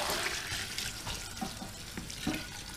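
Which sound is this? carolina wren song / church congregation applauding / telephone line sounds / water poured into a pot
water poured into a pot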